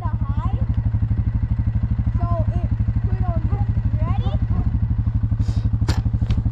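A dirt bike engine runs with a rapid, pulsing exhaust putter, steady and close, while people talk over it.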